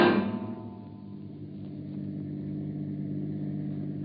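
A car drives along at a steady pace as a radio drama effect, its mid-pitched engine swelling briefly at the start and then settling into a continuous rumble with no voices over it.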